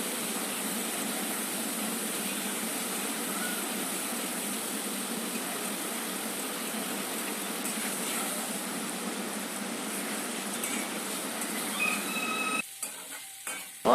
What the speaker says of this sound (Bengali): এখন পনিরটা আমি ভেজে নেব এই যে পনিরটা আমি ভেজে নিচ্ছি